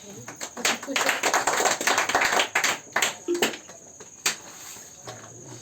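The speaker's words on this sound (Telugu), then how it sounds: "అక్క క్లాప్స్ కొట్టండి ఒకసారి" Group of people clapping their hands in applause, a dense burst of claps that thins into scattered final claps, with a voice speaking near the end.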